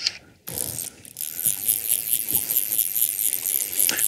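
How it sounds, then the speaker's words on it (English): Fishing reel cranking in line while a brown trout is landed on a stillwater, giving a close, continuous fine ratcheting whir with brief stops and restarts, loud and without talk. "make sure I distribute that line evenly on the reel"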